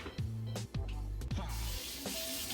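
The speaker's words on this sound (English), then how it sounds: "let me rinse my spoon off." A spoon is rinsed under a running kitchen tap, the water rushing steadily in a sink and becoming a broad, even splash in the second half.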